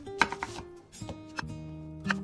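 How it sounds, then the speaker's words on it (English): Onions sliced into thin strips with a knife for an egg tawa biryani, giving a handful of crisp, separate cutting knocks spaced unevenly over a couple of seconds, close and fairly quiet, with no talking. "Just slicing them into thin slices along the vertical lines."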